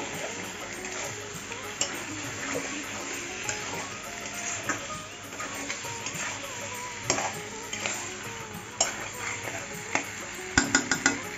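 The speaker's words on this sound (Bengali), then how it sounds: "টমেটো কুচিটা দিয়ে ভালো করে কষিয়ে নেব" Chopped tomato being stir-fried into a mutton curry in a pot, with a low steady sizzle and repeated scraping and clinks of a spoon against the pan, sharper knocks near the end.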